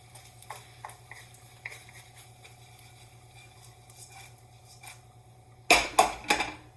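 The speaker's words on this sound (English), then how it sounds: "We're just heating these noodles up, right?" Noodles being reheated and stirred in a hot pan, with faint steady scraping and soft ticks for several seconds, then a louder burst of stirring and clattering near the end, up close.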